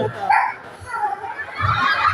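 A person imitates a dog barking in a couple of voiced, bark-like bursts, close and loud, with short pauses between them.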